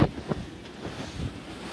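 Gusty wind buffets the microphone at a boat yard where a sailboat hull is being sandblasted, low rumbling bursts rising and falling with no voices.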